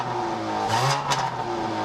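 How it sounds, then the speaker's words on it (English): A 2013 Dodge Dart GT with integrated dual exhaust is revved nearby, the engine note rising in a quick bark and falling back to idle, with a brief second blip. "integrated dual exhaust that barks quite a bit when you rev the engine."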